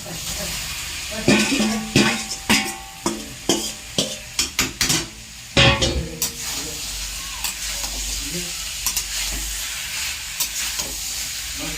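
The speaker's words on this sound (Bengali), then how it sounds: "আলু আর ডিমের সাথে পাঁচ মিনিট মতন আরও কষিয়ে নেবো" Spice paste sizzles in a pan with fried potatoes and eggs, a spoon scraping and stirring in quick close strokes for several seconds before it settles into a steady frying hiss.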